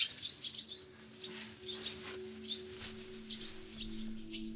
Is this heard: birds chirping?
yes